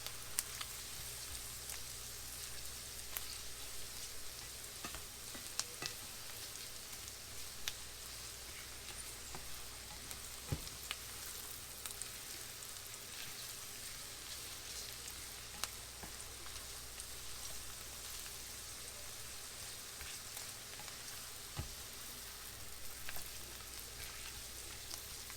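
Sliced mushrooms cooking down in a pan for mushroom gravy with Salisbury steak give a faint, steady sizzle with scattered small crackles and pops that carry on alone for the whole stretch.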